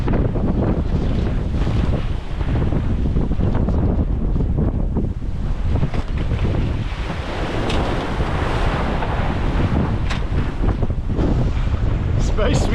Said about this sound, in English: Big waves, big surfs down those waves, and then occasionally getting smashed by the breakers